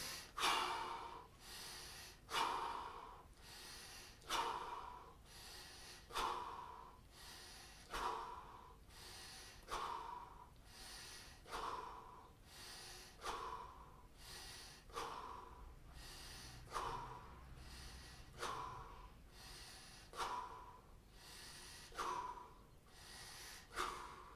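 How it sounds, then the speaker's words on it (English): Heavy, rhythmic breathing after bodyweight exercise, a sharp inhale-exhale roughly every second, close and loud throughout with no talking. "you can hear now that my breath turned to normal"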